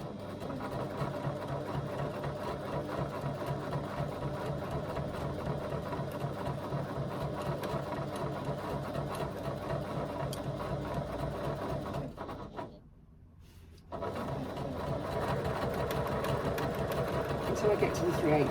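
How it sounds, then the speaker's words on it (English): A Classico Mk2 sewing machine stitches steadily along a fabric edge at a short stitch length, its rapid mechanical rhythm running close and continuous, pausing briefly partway through before resuming, with a voice talking over it. "I'm going to stitch along that side, just reducing my stitch length a little bit."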